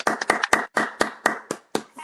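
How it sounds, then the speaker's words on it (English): Several people clap in a loose, uneven burst of about eight sharp, loud hand claps, close by, with no talking over them. "Clap it up for you for dedication."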